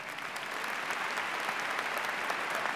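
Steady applause fills a commencement ceremony hall, a dense even clapping from a large audience sustained throughout.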